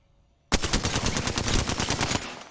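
Rapid automatic gunfire in a video game breaks out abruptly after near silence, a close, loud burst of fast repeated shots lasting about two seconds before tapering off.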